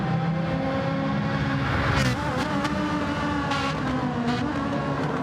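Race cars scream down the straight in a Vegas Cup Series round, with a loud, sustained engine whine that shifts pitch and a few sharper bursts as cars close in and pass.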